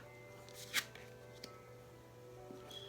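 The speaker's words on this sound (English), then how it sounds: "Let me go ahead and start flipping the cards and seeing what comes up." A few soft, close papery flicks and slides as tarot cards from a Celtic cross spread are turned over in a quiet room, with one sharper snap standing out early.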